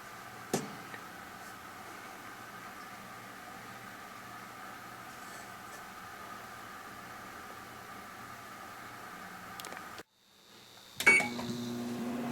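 Running microwave oven with a low steady hum, a couple of faint clicks near the start and a louder clatter toward the end after a brief cut.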